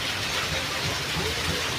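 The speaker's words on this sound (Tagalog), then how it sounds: "Simula pa yan kagabi mga kaabid yung ulan. Yan. Hindi pa rin mihinto." Steady rain pours in Dueñas after falling since the night before, a dense, even hiss of drops on surfaces that stays constant throughout, close and moderately loud with no talking.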